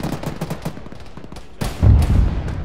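An autocannon fires inside a hangar in a video game: a quick run of sharp, evenly spaced shots, then a louder booming burst with heavy low rumble and reverberant echo, close and dominant.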